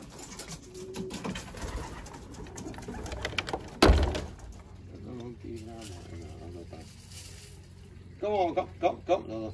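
Belgian racing pigeons cooing in soft rolling phrases, with a sharp knock partway through and a low murmur of voices underneath.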